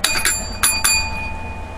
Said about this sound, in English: Bells for Dr. Bill, not bells for St. Mary.